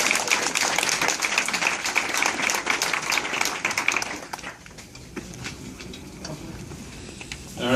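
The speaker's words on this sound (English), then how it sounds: "Big round of applause for the team, please." Hackathon audience claps for a presenting team, a loud burst of hand claps for about four seconds that thins into scattered, fainter clapping with room noise.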